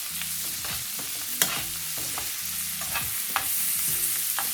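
Steak sizzles in butter in a hot pan, a loud and continuous frying hiss broken by sharp clicks and scrapes of a utensil at irregular moments, with no voices.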